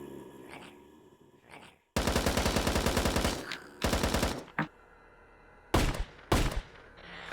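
Rapid automatic gunfire from a gun in the VRChat video game, several loud sustained bursts of fast repeated shots separated by short gaps, close and dominant.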